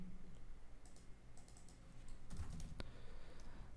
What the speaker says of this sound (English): So I'm going to type out Achal Rafi.